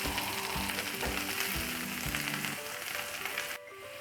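Garlic sizzles in hot oil for a tadka, a loud, steady frying hiss that runs continuously beneath a layer of music and cuts off abruptly near the end.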